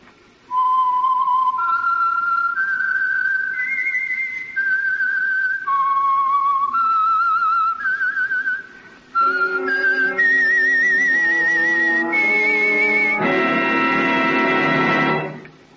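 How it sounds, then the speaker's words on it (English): Whistled theme of The Whistler radio program, a clear solo melody of sliding whistled notes in two phrases, the second richer with a lower accompaniment joining at the end, heard alone with no talk. "the signal to listen for is this whistle that identifies the signal oil program, The Whistler"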